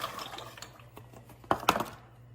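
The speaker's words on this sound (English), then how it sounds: "I'm going to add my pasta right here." Dried calamarata pasta tipped into a pot of boiling water, giving a low steady bubbling with a few splashy clatters and slides of pasta hitting the water near the end, close and fairly quiet.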